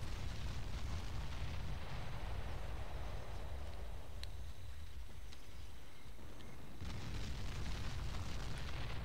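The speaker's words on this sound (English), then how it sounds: "Area targeted for bombardment." Artillery bombardment explosions in the Ground Control strategy game, a continuous rumbling barrage of distant booms with a brief lull midway before heavy detonations resume, no voices.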